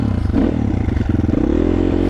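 Motopro 300 motorcycle pulling away uphill from a standstill in first gear, its engine chugging in a steady low pulsing rhythm, close and fairly loud, with no voices.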